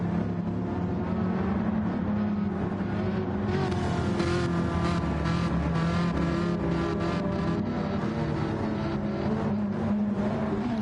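A Mazda race car in Gran Turismo 7 drives with a steady, loud engine drone, rising and falling through the gears as it revs, sustained and close.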